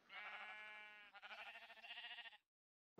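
Sheep bleating in a Minecraft wool farm, two drawn-out game bleats in quick succession, clear and alone before cutting to silence.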